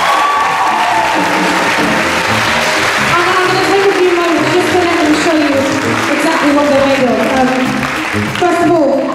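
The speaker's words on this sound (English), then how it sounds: "Can you give them a big round of applause?" Audience clapping at a Christmas gospel choir concert, a steady dense wash of applause running loud throughout, with voices and possible cheering mixed into the crowd noise.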